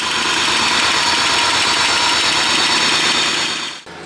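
A 1988 Nissan Pathfinder WD21 engine idles steadily and loudly up close, running slightly high with vacuum leaks, a constant rumbling drone that dips briefly near the end.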